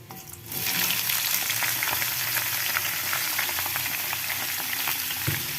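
Cucumber slices drop into a pan of frying garlic, and a quiet sizzle jumps at once into loud, steady crackling frying with spattering pops, close and continuous, with no talking.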